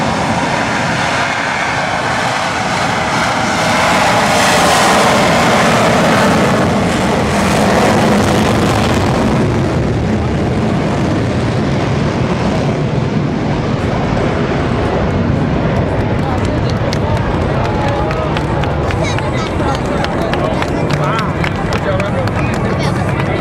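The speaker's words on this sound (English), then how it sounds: "The F-15 Eagles in turn powered up their twin engines for a roaring takeoff, quickly followed by a cruise speed climb." Twin-engine F-15 Eagle fighter jets at an RSAF open house, a loud roaring engine rumble that surges then shifts into a harsher crackling tone as they take off, with crowd noise and voices mixed beneath.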